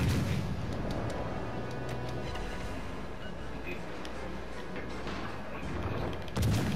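Warship guns boom steadily in a naval battle in World of Warships: Legends, a dense wall of low artillery rumble with repeated heavy reports and a louder burst near the end.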